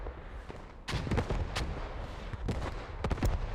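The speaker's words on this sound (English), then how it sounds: "Artillery from Zeus coming down on cap, getting one kill." An artillery barrage in the WWII shooter Post Scriptum lands as a series of sharp, booming impacts, several close blasts in quick succession with rumbling echoes between them.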